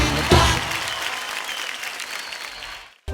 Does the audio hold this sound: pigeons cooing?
no